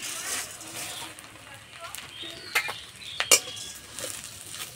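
Flattened rice (chira) fried in ghee with whole garam masala in a pan, stirred over low heat: faint frying hiss with soft scraping and a few sharp metallic clinks of the spoon against the pan.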